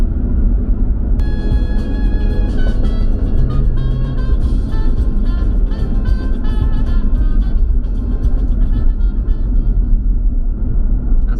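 Steady low rumble of a car interior while driving at night, continuous road and engine drone throughout, with music playing faintly over it.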